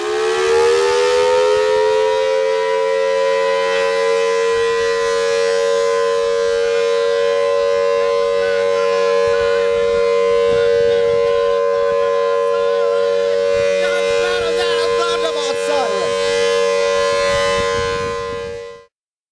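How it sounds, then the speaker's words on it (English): A Thunderbolt civil defense siren wails loud and steady in one long, unbroken tone for almost twenty seconds before cutting off abruptly, with no one talking. "What is your favorite siren? I give that title to the Thunderbolt"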